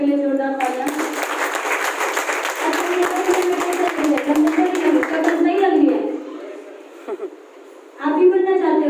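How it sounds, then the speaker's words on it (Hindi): An audience claps loudly for a team member at a gathering, a dense burst of applause running about six seconds, then fading, with voices and chatter mixed in and a speaking voice returning at the end. "भैया के लिए जोरदार तालियां।"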